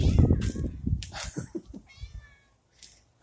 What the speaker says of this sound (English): being attacked by the cat.